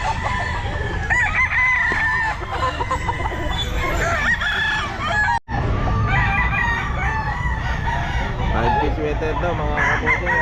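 Stag roosters crow repeatedly at a busy pet market, their calls loud and overlapping amid clucking and crowd noise, with a brief drop in sound midway.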